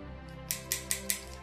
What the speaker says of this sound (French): Les ciseaux pour couper les pansements